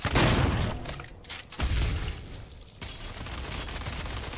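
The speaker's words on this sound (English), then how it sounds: "Who's shooting here?" Shotgun and gun blasts boom in the video game DOOM, starting with a loud opening burst, then a second heavy shot and a rumbling follow-up, close and without talk.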